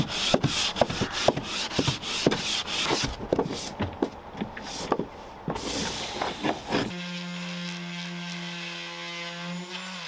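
Teak canoe gunwales are hand-sanded in quick rhythmic strokes, a close, scratchy rasp repeating for several seconds before the rubbing stops and a steady tonal hum takes over.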